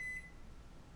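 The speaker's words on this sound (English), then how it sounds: "I'm going to start the timer" A kitchen timer being set while baking buns gives a single short, thin electronic beep at the very start, faint and close, followed by quiet room hiss.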